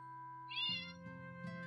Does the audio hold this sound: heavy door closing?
no